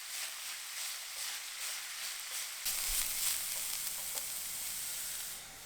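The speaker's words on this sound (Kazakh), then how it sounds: "Жоғары температурада 3 минут қуырамыз да" Grated beetroot frying in oil in a pan on high heat for borscht, a steady close sizzle and hiss that brightens partway through as the pan is stirred, with no talking.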